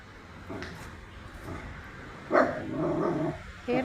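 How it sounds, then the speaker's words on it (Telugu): A dog on a walk barks and growls at another dog, with a few short barks and low rumbling spread through, moderately loud and nearby. "అరుస్తుంది దాన్ని చూసి."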